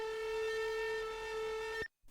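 Serum 2 metalcore breakdown synth preset played without PanMan, a steady, bright, tonal sustained note with strong harmonics, held for nearly two seconds before cutting off abruptly into silence, then a faint restart, alone and fairly quiet.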